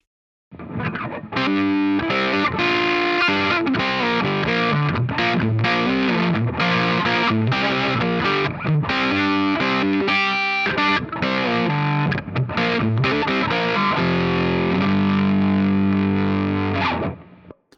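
An electric guitar through a Browne Gritador fuzz pedal plays busy, gritty riffs for the whole stretch, the distortion thick and buzzing, closing on a sustained chord.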